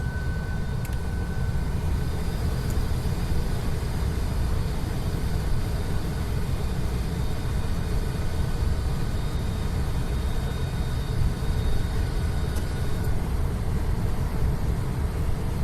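A truck rolls down a long, gentle downhill ramp without using its retarder, giving a steady, broad road and engine roar with a faint high whine, continuous and unchanging from start to end.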